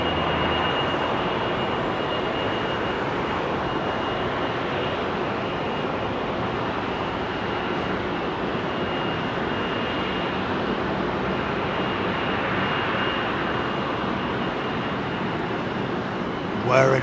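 Departing airliners on runway 27R at London Heathrow produce a steady, broad whirring roar of General Electric jet engines, holding constant throughout with no clear breaks.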